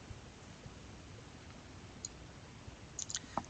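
A computer mouse gives a few faint, quick button clicks in a quiet room, clustered near the end after near silence.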